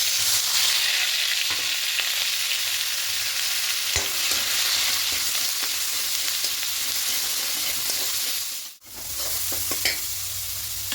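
Onion paste frying in oil in a pan for an egg curry, a loud continuous sizzle with light scraping as it is stirred, and one brief dip near the end.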